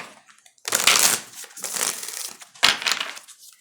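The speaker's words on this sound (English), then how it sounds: "One more shuffle, please" Close, crisp riffling and shuffling of a tarot card deck in three bursts, each a dry papery rush with brief pauses between them.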